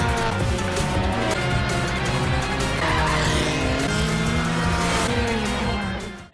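Race cars battle wheel to wheel on a track during the final lap of an anime race, with engines roaring loudly and steadily throughout, tires squealing over a thick bed of music.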